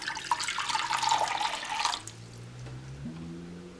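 Water pours steadily into a container for a radish pickling liquid, a bright splashing stream lasting about two seconds before stopping, leaving only a faint low hum.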